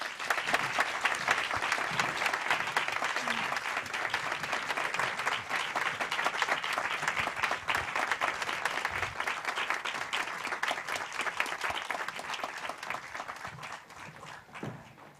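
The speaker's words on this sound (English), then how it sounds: "Let's give them a round of applause." Sustained applause from a large crowd at a Sphinx Stars Detroit award presentation, dense and even for most of the stretch, thinning slightly near the end.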